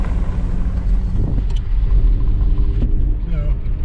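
A car on a road near a wildlife refuge rumbles past close by in a sustained low roar with wind buffeting, and voices talk faintly over it.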